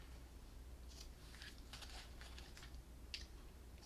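Small scissors snipping the ends of a ribbon on a crafted birthday piggy mug cake holder: several quick, soft clicks in short clusters with a sharper final snip, close up and quiet over faint room hum.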